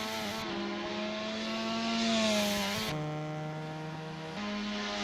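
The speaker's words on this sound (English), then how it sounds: "The RX-7 ran around with a rotary engine." A Mazda RX-7 race car with a rotary engine lapping Oran Park, its high buzzing engine note holding steady, swelling as it passes, then dropping to a lower pitch after a gear change.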